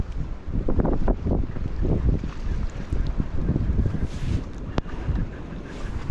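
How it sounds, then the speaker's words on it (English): Strong, gusty wind roars across the microphone on a rock wall while fishing in stormy weather, with a steady low rumble and occasional sharper gusts throughout and no voices. "Wind's picking up."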